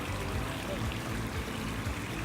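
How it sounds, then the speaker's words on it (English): Water beginning to pour and trickle from a newly built waterfall into a turtle pond, a steady rushing, splashing flow at moderate volume with no voices. "The water is coming out."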